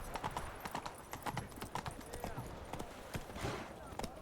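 Roach, the horse in The Witcher 3: Wild Hunt, gallops with rapid, steady clip-clop hoofbeats, close and prominent, over a busy game soundscape with a brief snort or whinny.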